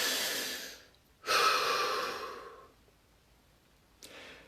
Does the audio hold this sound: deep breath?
yes